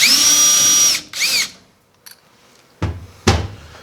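A power drill spins out T25 tail light screws on a Dodge Dakota, a loud whine rising and stopping, a second short burst, then a couple of knocks and clunks.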